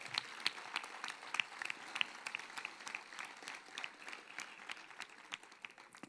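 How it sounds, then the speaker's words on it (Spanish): Faint, distant applause from a crowd at a town's patronal festival proclamation, a thin wash of scattered claps with a few sharper hits, heard alone for several seconds. "Le damos un aplauso"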